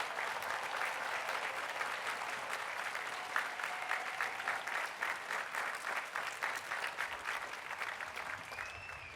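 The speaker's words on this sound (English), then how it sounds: "Let's have one more round of applause for the Emory University class of" A large crowd applauds the Emory University class of 2022 at its commencement ceremony, sustained dense clapping that holds steady for several seconds without voices.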